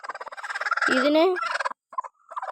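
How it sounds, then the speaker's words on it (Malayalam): A crested hen sitting on a clutch of eggs gives a loud, close run of rapid warbling clucks and a rising gobble-like trill, followed by a brief pause and a few softer clucks, with no talk over it. "ഇത് തൊപ്പിക്കോഴി."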